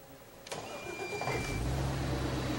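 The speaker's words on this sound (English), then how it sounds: "fires up what his company calls the next propulsion system of the skies" An automotive engine powering the Paradigm personal aircraft starts up: a short cranking burst, then the engine catches and settles into a steady low idle that grows louder and fills the rest of the clip, with no talk.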